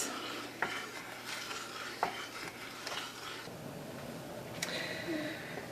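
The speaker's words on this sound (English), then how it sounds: "you're going to bring the mixture to a boil while stirring constantly." Blackberry syrup mixture stirred in a pot over heat, a soft continuous swishing with faint bubbling and a few light clinks of the spoon against the pot, close and quiet.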